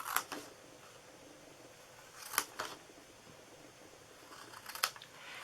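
Scissors cutting through paper for a tea pot treat box, a few sharp snips scattered across the clip, close and fairly quiet with soft rustling between.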